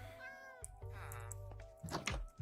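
A pet cat in the video game Minecraft meows a few times, clear drawn-out cries close up, ending with a soft thunk.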